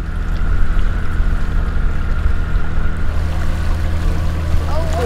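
Boats motor out toward the surf off Madagascar, a steady low engine drone with water rushing against the hull and wind noise, constant and fairly loud throughout.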